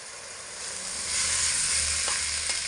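Potatoes frying in a pan with ground coriander and cumin powder, giving a dense, steady sizzle that swells louder partway through, with a couple of faint clicks near the end and no voices.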